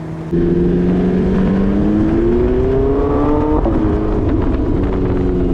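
A Porsche 918 Spyder engine revs hard while driving, its loud, continuous roar climbing in pitch through a gear, with a quick shift midway before pulling again.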